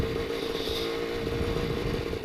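A WSK 175 motorcycle engine rumbles steadily at idle or low revs, loud and close, with a constant throbbing drone and slight mechanical clatter throughout.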